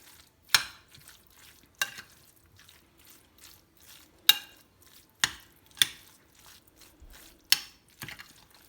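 A spoon stirs a mince mix seasoned with salt and black pepper, giving about nine separate scraping strokes spread irregularly, each a crisp close scrape against the bowl with quiet gaps between.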